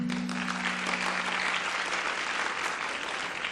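Steady applause from an audience at a school quiz final fills the whole clip, a dense, even clatter of many hands clapping with a faint low hum beneath it at the start.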